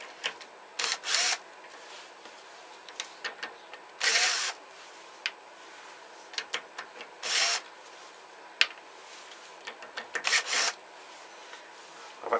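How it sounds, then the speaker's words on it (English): An electric screwdriver with a hex bit backs out the screws holding a jaw on a woodturning lathe chuck: four or five short, loud whirring bursts, each about half a second, separated by quiet pauses and small clicks, with no talk. "to do that I'll use an electric screwdriver"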